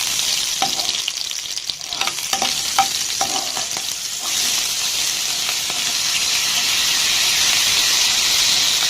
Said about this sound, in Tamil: வெங்காயமும் பச்சை மிளகாயும் சேர்த்துடலாம்.